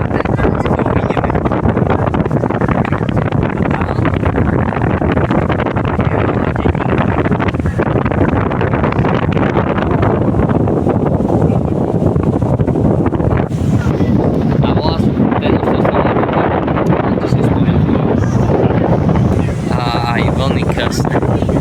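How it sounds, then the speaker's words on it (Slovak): A fast passenger boat carrying people to an island churns through big waves, giving a steady loud rush of water and wind that holds throughout, with faint talk mixed in. "Je proste rýchlo tá loď a robí takéto veľké vlny, čo je super."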